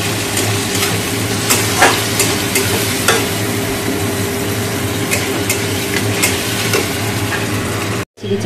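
Chili chicken sizzles and fries in a pan while being stirred, with a steady loud hiss broken by frequent sharp scrapes and clicks of the utensil. No one speaks.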